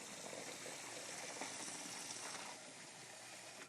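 Hot pasta water pours steadily into a colander in a kitchen sink, a continuous rushing splash heard close and fairly quiet, easing slightly near the end.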